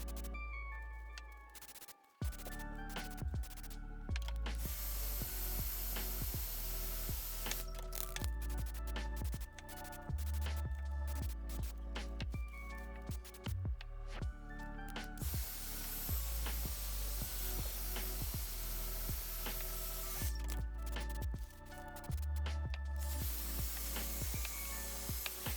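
Several bursts of hissing spray from a can of matte black paint and primer used on houseplant nursery pots, separated by short pauses and handling clatter, fairly close with no voices.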